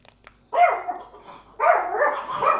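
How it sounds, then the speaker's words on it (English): Pet dogs indoors bark twice in loud close bursts, separated by a short pause, with a whimpering edge and no talking. "My dogs are making it known that they are still here."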